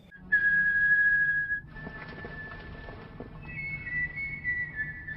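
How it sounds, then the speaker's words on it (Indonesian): A clear, sustained whistled tone holds for about a second, then a softer steady whistle continues over faint background noise, rising slightly near the end. "suara siulan yang sangat akrab menarik perhatiannya."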